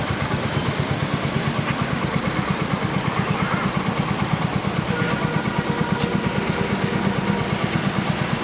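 A Royal Enfield Hunter 350 motorcycle idles close by, its exhaust thumping in a steady, even low pulse with a mechanical clatter over the top, with no talking.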